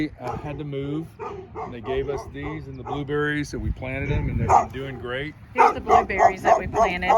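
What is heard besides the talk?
dogs barking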